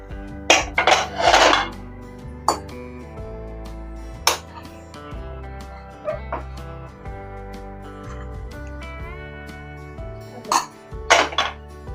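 Rice served onto a plate with metal utensils in a home kitchen: scattered clinks and scrapes of spoon against steel, several sharp knocks in quick bursts at the start and end, close and fairly loud.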